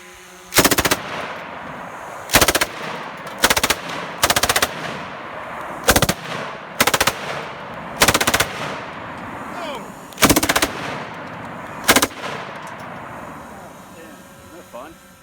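Short bursts of MG 34 machine gun fire from a mount on a 1942 Zundapp KS 750 German motorcycle, about nine loud, close rapid-fire volleys spaced by brief pauses, with echo trailing between them.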